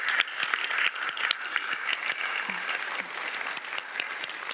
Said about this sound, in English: A round of applause for Keng.